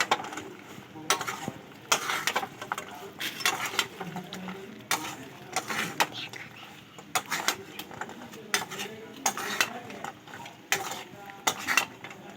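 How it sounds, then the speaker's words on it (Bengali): Green peas (shuti) fried and stirred continuously in a pan in a home kitchen, giving repeated close metallic scraping and clinks of a spatula against the pan over a steady sizzle, with brief speech at times. "আমি এবারে দিয়ে দেওয়ার পরে অনবরত নাড়তে থাকবো।"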